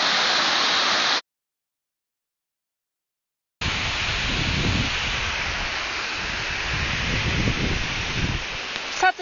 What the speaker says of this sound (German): mein erster Wasserfall und das soll erst der kleine sein